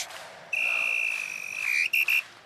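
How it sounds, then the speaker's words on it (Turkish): A long, sharp referee's final whistle blast ending a match in the video game Kafa Topu 2, followed by two quick short toots, loud and clear over a quiet background. "Ve son düdük."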